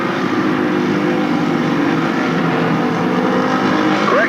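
Late model stock cars racing at Stafford Speedway, a loud continuous roar of several engines with shifting pitch, dense and unbroken throughout, with no talking.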